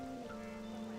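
Rain falls in a Persona video game, a soft, steady hiss of rainfall under sustained background music, faint and continuous.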